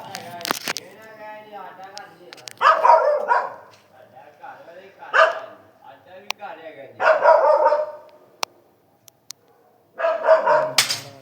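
A dog barks outside on a street in short loud bursts, several barks spaced across the stretch, mixed with bits of talk and quieter gaps.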